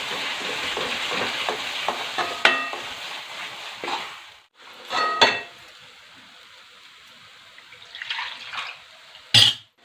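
Hing, turmeric and Kashmiri chilli sizzle and get stirred in a pan for misal, with intermittent scraping and clinks from the spoon, the frying hiss dropping away near the middle before a few louder stirs return.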